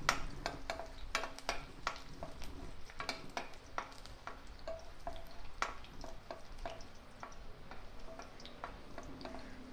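Chopped native garlic frying in hot oil in a pan for a kadvanchi vegetable dish, a quiet, steady sizzle scattered with small ticking pops, heard alone without talk.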